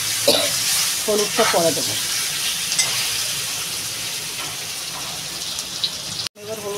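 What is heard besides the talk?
elephant foot yam being sautéed and stirred in a pan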